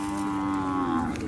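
A Khillar bull lets out one steady, close moo at the Kharsundi Chaitra fair, clear and alone.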